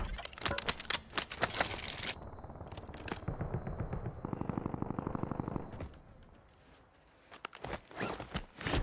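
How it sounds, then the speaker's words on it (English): Weapon reloading in Warzone: a string of mechanical clicks, rattles and a quick ratcheting run of metallic taps, mixed with bursts of gunfire and footsteps, fairly close and moderately loud. "I'm reloading!"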